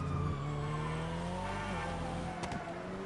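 A JDM car with an RB-series inline-six in GTA Online on PS5 revs and holds a steady, loud engine drone with shifting pitch and a brief break near the end, with no one talking.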